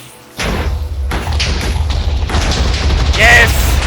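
Minecraft explosions go off as a sudden loud boom, then further heavy thuds and rumbling blasts rolling on close and loud for several seconds, with a brief voice-like tone near the end.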